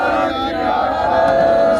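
A crowd of protesters at a farmers' protest on the Kundli border shouts the Sikh jaikara response to Jo Bole So Nihal, one loud, sustained, unified roar of many voices close by.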